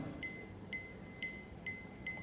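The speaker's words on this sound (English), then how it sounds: "Okay, here are the demonstration for anti-loss alarm." A small Bluetooth Gosh!LinkFone anti-loss gadget sounds its alarm, giving three evenly spaced pairs of sharp, high electronic beeps over a quiet room hum.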